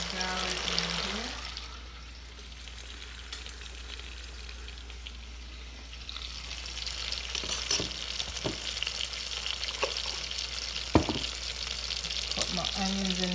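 Garlic and onions frying in melted butter in a pot on a stovetop, heard as a broad hiss with stirring scrapes and a sharp clank near the end. Background noise sits underneath, and the sizzle swells louder in the second half.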